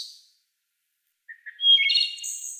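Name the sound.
field-recorded bird call chuckle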